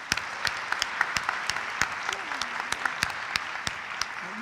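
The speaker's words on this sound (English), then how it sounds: "So let's give them a round of applause," An audience at a student engagement awards ceremony claps steadily, a dense patter of many hands with a few sharper individual claps standing out, moderately distant and even throughout.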